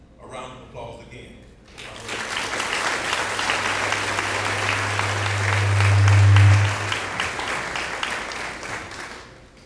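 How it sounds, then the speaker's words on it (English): A crowd at a school board of education meeting breaks into applause after a brief spoken line, steady clapping that swells, then fades near the end, with a low hum underneath. "A round of applause again."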